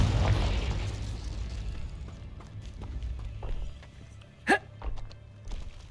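A Confringo fire blast spell in Hogwarts Legacy, an opening low rumble followed later by a sharp, bright burst and smaller impacts over a dull game background.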